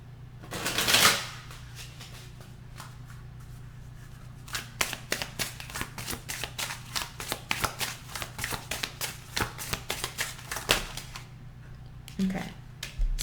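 Tarot cards being shuffled by hand, a rapid run of crisp riffling clicks and flutters, fairly close and moderately quiet, with a short burst near the start and another at the end.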